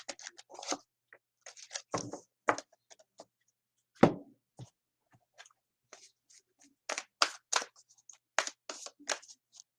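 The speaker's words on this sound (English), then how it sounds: "So I'm going to shuffle these cards and clear them." A deck of playing cards being shuffled and handled during a live card reading, heard as scattered soft flutters and taps in irregular bursts, with a denser run of riffling near the end.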